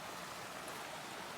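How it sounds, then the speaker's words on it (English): A small creek flows beside the Colorado Trail, a faint, steady rushing murmur of water heard from a short distance with no talking. "that noise that you hear, a little creek."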